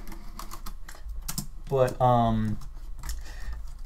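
Keys on a 2014 Lenovo ThinkPad T440p laptop keyboard being pressed, a few light clicks and taps heard up close, with someone speaking briefly over them.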